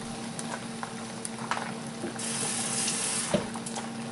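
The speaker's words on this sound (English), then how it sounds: "I'm going to add a little bit of water." Water poured into a pan of sauerkraut hisses and sizzles steadily for several seconds, with a few clinks and a sharper clatter near the end, close and moderately loud.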